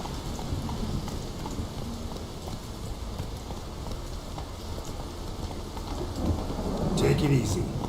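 In Witcher 3, a horse gallops through a thunderstorm, its hoofbeats clip-clopping over heavy rain and rolling thunder. The steady storm wash is joined by louder hoof clatter near the end.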